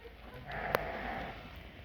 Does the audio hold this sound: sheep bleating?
yes